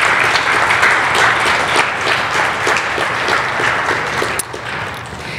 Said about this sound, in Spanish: Podemos dar un aplauso a las ofrendas y diezmos